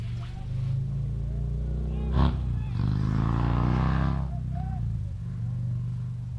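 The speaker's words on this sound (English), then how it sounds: "Sounds like that motorcycle's excited." A motorcycle revs and rumbles past a college baseball game, its engine note swelling loudly and then fading, with announcers talking over it.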